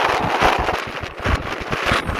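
Strong wind gusts of around 60 mph on the Appalachian Trail in New Hampshire roar and buffet a microphone up close, a loud continuous rumble with surging peaks and no talk.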